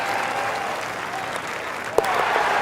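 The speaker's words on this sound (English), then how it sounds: "Crowd goes wild after that eagle." A crowd in a golf video game applauds and cheers steadily after an eagle, a dense, sustained roar with one sharp clap-like spike near the end.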